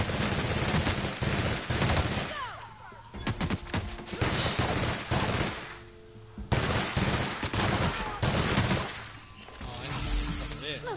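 Rapid bursts of gunfire from a firefight in The Outer Worlds crackle in close, dense volleys broken by short pauses, and a voice can be heard between the shots.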